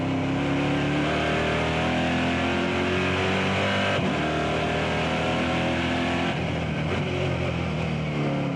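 A Euro-Racecar NASCAR stock car engine roars from an onboard position, a loud sustained drone with pitch rising through acceleration, brief dips at gear changes around the middle and later, continuous throughout.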